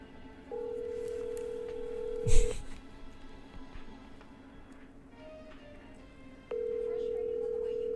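A telephone ringback tone on an outgoing call: two long steady rings separated by a pause, heard clearly over low room noise, with a brief loud clatter between them.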